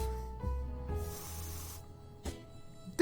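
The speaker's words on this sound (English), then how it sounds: "Use the bug spray." Bug spray hisses in a steady burst of several seconds in the survival game 60 Seconds, faint and alone against a quiet tonal game backdrop.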